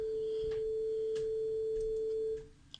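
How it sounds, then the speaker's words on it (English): A pure 440 hertz sine tone sounds steadily and evenly for over two seconds, then fades out, with faint background noise and no other sound. "440 hertz. We were saying sounds something like this."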